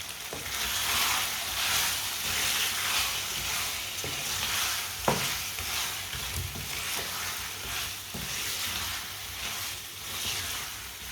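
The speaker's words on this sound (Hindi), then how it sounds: "दो मिनट के लिए इसे पकने देते हैं।" Potato curry with garam masala cooking in a pan, a dense, steady sizzle and bubble held for the whole stretch, with a few faint spoon knocks, close and even, no talking.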